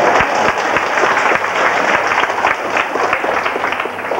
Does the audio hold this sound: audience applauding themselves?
yes